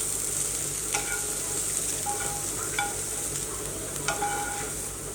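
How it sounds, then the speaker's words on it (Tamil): Cooked cabbage being stirred together with eggs in a pan with the stove turned off, giving a soft sizzle and a few sharp clinks of a spoon against the pan at irregular intervals. "இப்போ அடுப்பை ஆஃப் பண்ணிவிட்டு இதை முட்டைகளை சேர்த்து மிக்ஸ் பண்ணிக்கலாம்."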